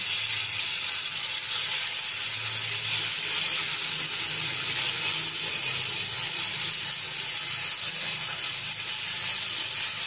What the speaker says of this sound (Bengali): চালটাকে একটুখানি ভেজে নেব